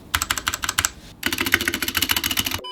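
Rapid typing on an RK84 Pro budget custom mechanical keyboard, with close, crisp, clacky keystrokes in two quick bursts separated by a short pause, with no talk.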